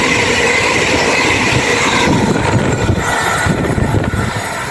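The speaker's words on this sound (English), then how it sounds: "About to pass by now, we have an 8:10 going from Sheffield to London St Pancras." A Sheffield to London St Pancras train passes through a station without stopping, a loud continuous rumble of wheels and rail noise throughout, close by, with no talk.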